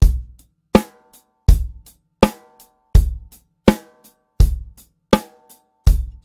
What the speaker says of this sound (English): we're now going to play what we call eighth notes on the hi-hat